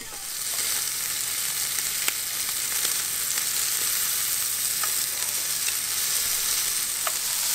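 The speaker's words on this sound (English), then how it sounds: "So we got the sausage browned and it's pretty cooked." Sausage browning in a covered pan, a steady close sizzle of frying with scattered small pops and crackles, continuous and fairly loud with no talking.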